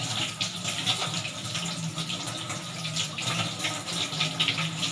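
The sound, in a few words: water running from a tap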